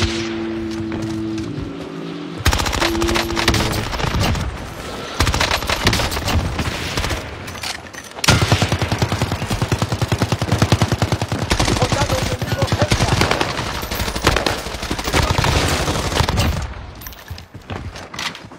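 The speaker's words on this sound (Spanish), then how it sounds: "Me están disparando." Loud, sustained automatic gunfire in a shooting video game, with bursts of rapid shots filling most of the stretch, brief lulls between volleys, and a game tone near the start.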